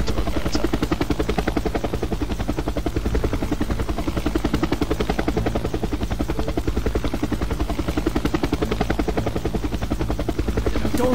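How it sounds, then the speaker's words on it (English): A helicopter's rotor thumps steadily and continuously under a loud engine drone in the video game Jagged Alliance 2, close and unbroken throughout. "So we enter by helicopter to Omerta."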